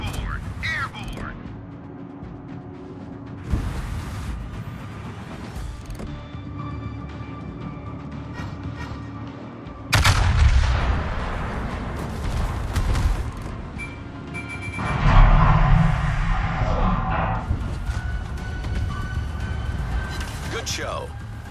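Heavy naval gunfire from a Yamato battleship in World of Warships, with several loud deep booms and rumbling blasts separated by quieter stretches, under frequent in-game voice callouts and chatter.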